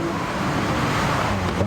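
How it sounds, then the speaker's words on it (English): BMW and Hyundai race cars in a wet race at Spa in a racing video game, a dense, steady engine roar with a brief swell near the end. "The BMW versus the Hyundai. Oh, that sounded absolutely beautiful."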